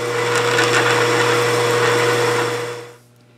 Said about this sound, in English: while we're in the lathe, I'm going to face it off and drill the 5/8 hole